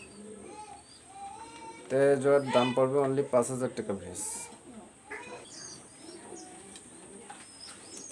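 A golden male pigeon cooing in a loft, its soft repeated coos mixed with other birds' chirps while someone talks over them.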